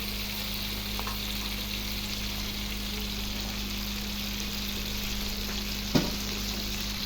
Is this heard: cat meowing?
no